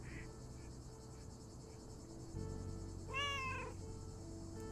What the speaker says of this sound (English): And her cats, of course. Seems like they've multiplied.